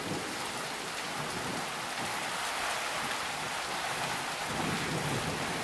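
Heavy rain coming down hard outside a house, a thick continuous roar of drops with low rumbling beneath it like distant thunder, steady and unbroken with no talk.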